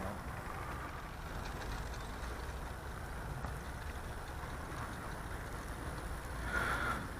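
An FMS P-40 RC model airplane engine drones steadily at a distance as the throttle is eased down, a faint, even hum with little variation.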